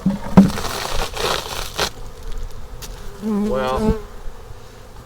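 Bees in a weak, unhappy beehive buzz and whine faintly, with crackling handling noise and brief rustles; a voice speaks briefly near the end.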